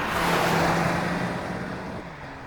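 A 2025 Toyota Land Cruiser on the road, its engine a steady low hum with tire and road roar filling the cabin, fairly loud and slowly easing off, no voices.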